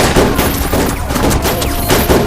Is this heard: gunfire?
yes